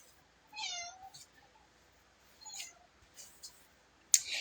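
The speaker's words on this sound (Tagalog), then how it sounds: "Ang cute ng pusa, san? Meow!" A cat meows a few times in short, separate calls: two clearer meows with quieter, softer sounds between them, all fairly faint in a quiet indoor space.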